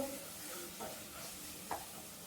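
Fresh tomatoes fry in oil spiced with dried fenugreek, turmeric and masala, giving a faint, steady sizzle broken by two soft stirring scrapes, with no talking.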